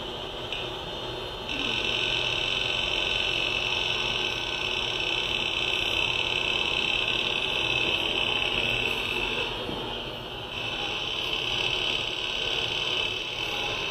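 Computer hard drive seeking noisily while deleting a folder, a recording played during a lecture: a steady, fairly loud mechanical whir and high whine with a brief dip near the end and no talk.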